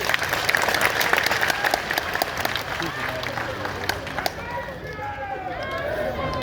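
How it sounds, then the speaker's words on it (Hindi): An audience at a Bageshwar Dham divine court gathering claps in a dense, steady burst under continuing talk, then thins toward the end as a voice carries on. "एक बार ताली बजा"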